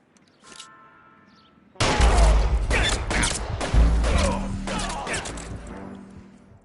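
A sudden burst of loud, close gunshots and crashing impacts follows a quieter opening, with several sharp reports over about five seconds before it fades.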